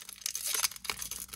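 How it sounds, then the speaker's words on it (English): A foil hockey card pack wrapper is torn open with a quiet, close crinkling rip, made of short scratchy bursts over about a second and a half. "These packs are giving me a little bit of trouble ripping open."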